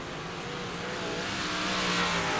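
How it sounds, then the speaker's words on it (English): 358 sprint-class race cars running practice laps at USA International Speedway, a dirt track, producing a dense continuous engine roar that builds slightly in loudness, heard from trackside with no talking. "Can you hear the engines?"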